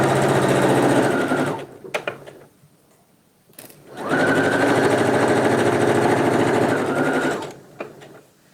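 A domestic sewing machine stitches a hem, starting on a seam, running in two fast continuous bursts of rapid needle chatter separated by a pause with a few clicks and handling noises, close and loud.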